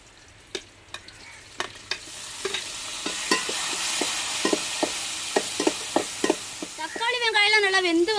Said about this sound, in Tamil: வெங்காயம் நம்மளுக்கு நல்லாவே வதங்கிருச்சுங்க நம்ம தக்காளியை சேர்த்துக்கிறோம்